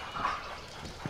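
Short dog barks and yips from a dog in Harry Potter and the Order of the Phoenix video game, a couple of quick sounds over faint background ambience.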